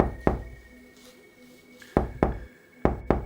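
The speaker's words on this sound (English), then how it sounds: "He knocked on the door" Knocking on a wooden cabin door: sharp, close raps, one early, then a pair and another pair spaced apart, with quiet between them.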